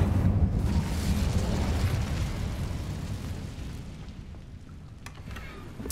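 The Incendio fire spell cast in Hogwarts Legacy unleashes a loud, dense whooshing burst of flame that rumbles on for several seconds and then fades, a few faint crackles trailing behind.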